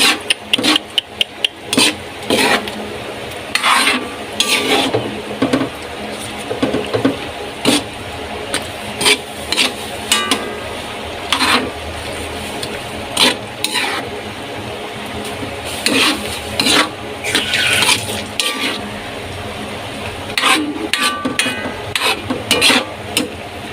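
A ladle stirs chicken liver and gizzard adobo in a pot, giving repeated rasping scrapes and clatters at an uneven rhythm over a steady low background hum, with no talking.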